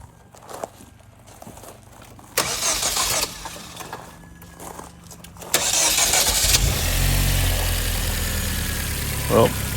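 A 2010 Hyundai Genesis Coupe 2.0T with a GReddy blow-off valve fires up after faint clicks and shuffling, the engine catching with a loud burst, then settling into a steady rumbling idle with a short whoosh near the end.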